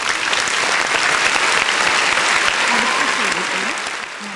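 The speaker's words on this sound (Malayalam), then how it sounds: "നമുക്കൊരു കയ്യടി കൊടുക്കാം." Studio audience applauding at a televised Kerala church Bible quiz competition, a dense, steady clatter of many hands that holds loud for about four seconds before easing, with a voice speaking briefly underneath.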